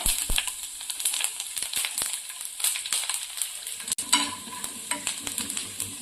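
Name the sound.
coconut being fried in a pan while stirring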